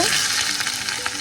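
Steady, dense sizzling of seeds frying in hot oil, loud and close, with a few sharper crackles and pops near the end.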